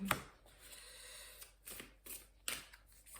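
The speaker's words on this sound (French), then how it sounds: "Alors, nous allons croiser toutes ces cartes." Tarot cards being shuffled and crossed by hand in a French general reading, giving soft riffling and sliding rustles with a few sharper slaps, close and fairly quiet.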